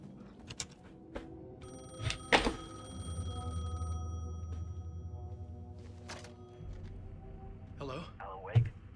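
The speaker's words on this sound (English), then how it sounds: "The payphone was ringing." A payphone in the Alan Wake 2 video game rings with a sustained electronic trill amid dark ambient game sound and low rumbles, with a person talking over parts of it.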